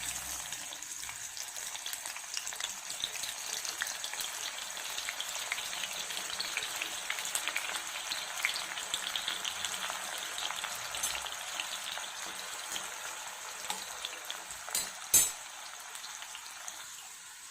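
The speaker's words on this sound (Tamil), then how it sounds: "எண்ணெய் காஞ்சதும் நம்ம நறுக்கி வச்சிருக்க வெங்காயத்தை போட்டுக்கலாம்." Chopped onions fry in hot oil in a kadai, giving a steady, dense sizzle and crackle that holds evenly throughout, with one sharp clink of a utensil near the end and no talking.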